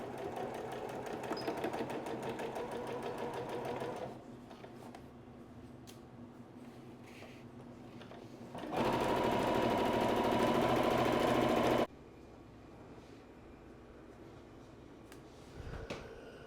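A sewing machine runs a quarter-inch side seam on a handwoven tote bag, whirring steadily for several seconds, pausing with quieter handling sounds, then running again in a louder, faster burst.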